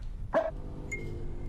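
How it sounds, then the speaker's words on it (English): A dog in a horror video game gives a single sharp bark, moderately close, followed by quiet low ambience and a brief faint tone. "Oh, dog, what are you barking at?"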